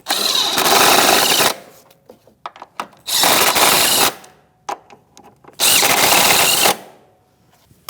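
Power tool snugging the 14 mm shock absorber bolts on a Chevrolet Malibu rear suspension, three loud rattling bursts of about a second each, close up, separated by quieter clinks and handling noise.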